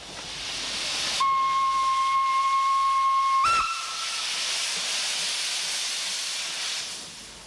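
Steam locomotive letting off a loud steady hiss of steam, with a sustained steam whistle tone sounding for about two seconds in the middle.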